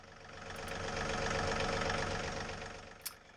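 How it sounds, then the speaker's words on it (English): A tractor engine idles after a cold start aided by a plug-in block heater, a steady low mechanical drone that swells and eases slightly, with a faint knock or click near the end. "the tractor started right up thanks to the plug-in engine block heater."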